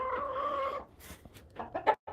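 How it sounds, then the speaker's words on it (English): A rooster and chickens cluck in a coop, one drawn-out call followed by a few short close clucks. "That's our main rooster right there."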